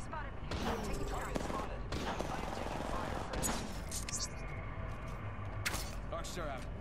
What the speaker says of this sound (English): They spotted me. I'm taking fire.